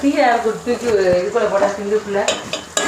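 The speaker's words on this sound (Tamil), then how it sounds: "இப்போ உருளைக்கிழங்கும் போட்டாச்சு தக்காளி வெங்காயம் எல்லாம் போட்டு உருளைக்கிழங்கையும் அப்படி போட்டு வதக்கிட்டே இருக்கணுமா" Onions, tomatoes and potatoes fry and get stirred in a pan, with a steady sizzle and scraping stir strokes under a voice talking over the cooking, plus a few clinks of utensils against the pan.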